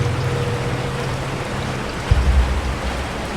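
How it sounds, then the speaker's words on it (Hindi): Heavy rain pours onto an empty roadside in a steady, dense hiss, with a low rumble and a brief thud near the end. "इतनी जोरदार बारिश हो रही थी कि रास्ता पूरा खाली पड़ा था।"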